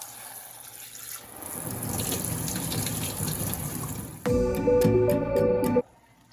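Running water gushes steadily from a tap, then a louder, fuller stream splashes into a sink while dried mushrooms are washed, before stopping abruptly, with no talking.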